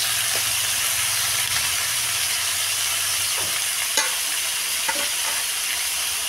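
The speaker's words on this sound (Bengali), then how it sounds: "আমি রান্না করছি।" Mutton curry and eggplant cook in a pan, producing a steady, loud, close sizzling hiss with a few faint clinks and stirring scrapes throughout, and no talking.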